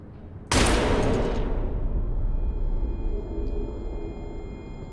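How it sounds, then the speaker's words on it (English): A single gunshot fired at a lock in the horror game Amnesia: The Bunker: a sudden loud blast that decays into a long reverberant rumble lasting several seconds, with no talk. "It's a lock, so I'm gonna have to use one of my old bullets."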